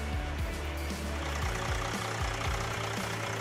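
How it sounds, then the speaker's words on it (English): A 2004 Freightliner FL112 truck with a 435-horsepower Mercedes MBE 4000 diesel idles close by, a loud, steady low rumble with a regular pulsing beat and no talking. "Engine is a Mercedes MBE 4000 with 435 horsepower."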